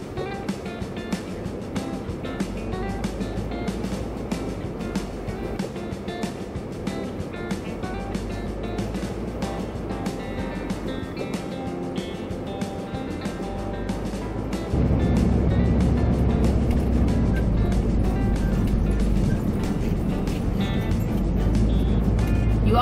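Class C RV engine droning in low gear over muddy ground during an Arizona storm, a steady close rumble that grows louder and heavier about two-thirds through, with no talking.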